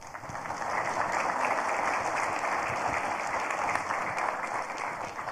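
Steady audience applause for a speaker at an AI and business conference, a sustained wash of clapping that holds evenly for several seconds with no voices over it.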